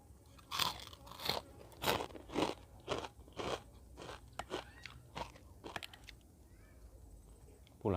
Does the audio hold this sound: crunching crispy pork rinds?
yes